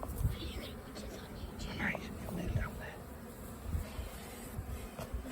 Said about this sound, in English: We've got a big swarm going on here, haven't we?